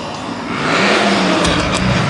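A supercharged LS3 V8 drift car accelerates hard at a drift event, its engine swelling from a rising rumble into a loud, close roar over about two seconds.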